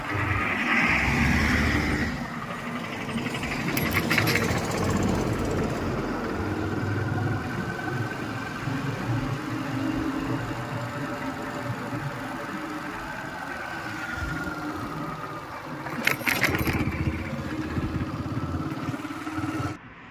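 Vehicles, cars and motorbikes, pass along a rural road near speed breakers, their engines droning steadily with a louder rush as one goes by close, and no talking.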